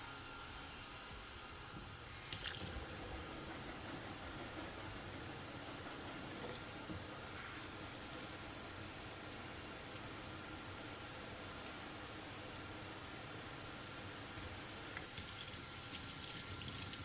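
Water runs from a kitchen tap over a metal whisk during home baking of chai latte cupcakes, a steady broadband hiss lasting throughout with a slight surge after the start and faint clinks.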